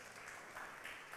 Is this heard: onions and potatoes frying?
no